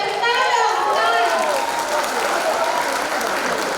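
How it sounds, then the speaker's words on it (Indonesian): Audience applause for Miss Nova at a campus orientation event (PKKMB), a steady wash of clapping from a large crowd with cheering voices mixed in, loud and sustained throughout. "Miss Nova, mana suaranya? Tepuk tangan."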